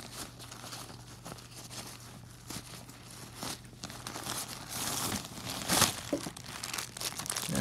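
A bag insert is pulled out of a tripod's packaging, giving close, soft crinkling and rustling. The sound grows louder and more tearing toward the end.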